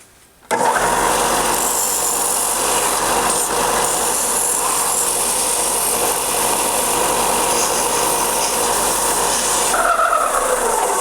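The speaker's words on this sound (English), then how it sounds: "I'm going to probably take these things out to the belt sander and grind them back as far as I can" A belt sander grinds down a wooden topwater crawler lure, a loud, steady abrasive roar that starts abruptly and runs unbroken for about nine seconds before a brief shift near the end.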